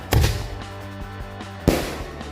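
Bima Sakti firecrackers at a New Year's Eve fireworks party give two sharp, loud cracking bangs about a second and a half apart, each trailing off quickly, with a low background hum between.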